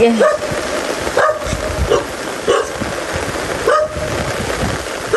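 Several dog barks ring out at intervals over steady rainfall, the barking fairly close and repeated about every second or two.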